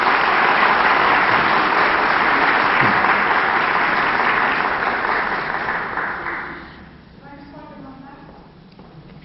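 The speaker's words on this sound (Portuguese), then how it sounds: "eu também pediria com todo carinho uma salva de palmas para ele" An audience claps warmly at the opening of a Spiritist week gathering in New York, with steady applause that fades out after about six seconds, leaving a quiet room with faint voices.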